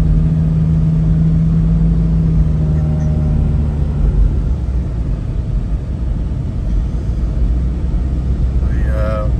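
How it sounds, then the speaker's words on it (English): A 1997 Toyota Hiace with a 3-liter 1KZ-TE turbo diesel engine drones steadily while driving, a constant low rumble and road noise filling the cabin without break. "1KZTE engine in this, which is a 3-liter turbo diesel."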